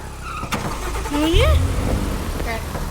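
A car engine in the Roblox video game revs briefly under a player's talk, with a rising engine tone near the middle of the short stretch.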